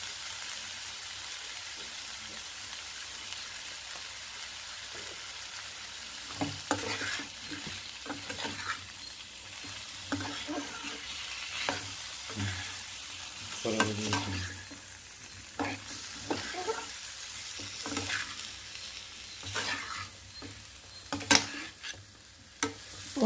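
Pumpkin curry with lentil powder being stirred in a pan, a steady scraping stir over a soft sizzle with scattered louder clinks and scrapes, no talking.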